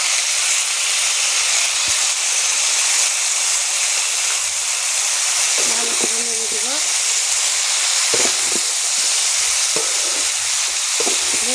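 Ginger-cumin paste fries in hot oil with a loud, dense hiss, and scraping stirs and clanks against the pan come through in the second half.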